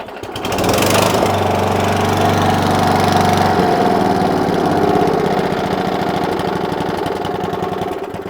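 An Atco Balmoral cylinder lawn mower's small petrol engine idles slightly unevenly, loud and close, a steady chugging drone with a rough, knocking edge that runs throughout once it fires up, with no talk over it.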